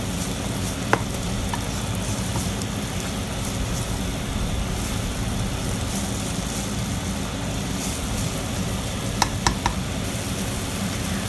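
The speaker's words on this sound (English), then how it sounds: "we're going to give that a stir, and then I'm gonna let it sit for a bit and fry up" Guyanese fried cabbage and chicken stirred and frying in a pan, a loud, steady sizzle with a few sharp clinks of the utensil against the pan, close and alone.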